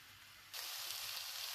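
Eggplant pieces sizzle in a hot pan over a raised flame. After a quieter start, a steady, bright frying hiss sets in and holds.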